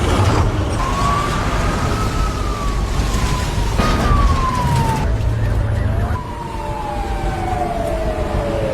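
A fire engine siren on the way to a fire, loud wailing tones that sweep up and then slowly fall, repeating several times over rumbling traffic and engine noise.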